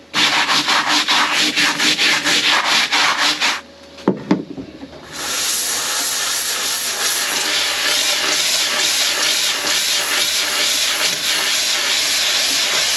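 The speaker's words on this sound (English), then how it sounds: "really blow some steam in there and then scrub it out with a scrub brush" A steam cleaner blasts loud hissing steam into a waffle-pattern surface while a scrub brush rasps rapidly against it, broken by a brief pause with a few knocks before the steady steam hiss resumes.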